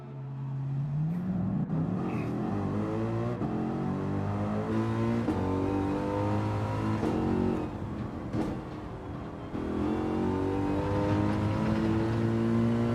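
A race car in Gran Turismo 7 on medium tires lapping a circuit, its engine howling steadily with repeated upshifts and revving climbs, loud and continuous throughout.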